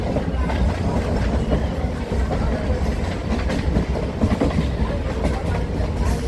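A Chennai local train rolls steadily along the track, its loud continuous rumble and rhythmic clickety-clack of wheels over rail joints heard from inside, with no break in the noise.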